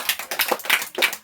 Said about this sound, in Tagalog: Isa pang malakas na palakpak sa Panginoon.